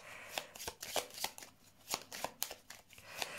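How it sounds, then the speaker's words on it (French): Playing cards handled and laid out for a card reading, a series of crisp flicks and slaps at an uneven pace, close and fairly soft, with no talk over them. "Je vais mettre des cartes de plus."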